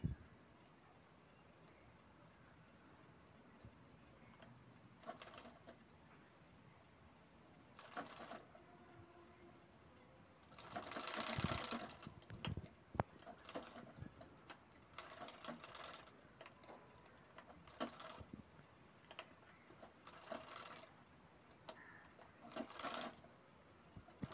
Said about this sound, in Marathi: तर दुसऱ्या बाजूने हा राऊंड फिरवत शिलाई करत आहे